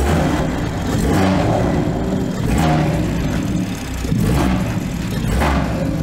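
BMW 340i with a B58 engine and a catless downpipe revs several times in short, loud blips, the engine rising and settling in a repeating rhythm close by, with no talking.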